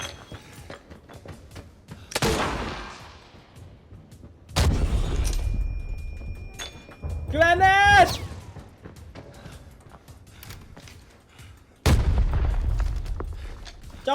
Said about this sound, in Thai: มันการระเบิดขื้นวะ